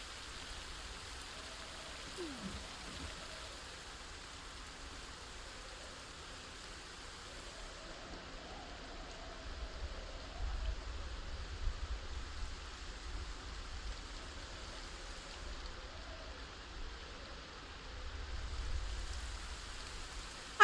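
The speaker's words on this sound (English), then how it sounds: "It's pretty uncomfortable to stand around and get rained on." Rain falls steadily in the Project Zomboid video game, a soft continuous hiss with low rumbling swells, faint and even with no voices.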